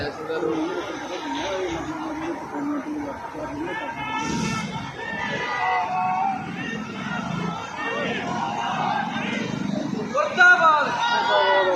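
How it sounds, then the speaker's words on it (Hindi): A political rally crowd chants slogans in a dense, continuous mass of shouting voices, loud and near, with crowd noise throughout. "ये नारे जो लग रहे थे वो प्रधानमंत्री मोदी जिंदाबाद के नारे लग रहे थे और सीएम चन्नी मुर्दाबाद, कांग्रेस मुर्दाबाद के नारे लग रहे थे"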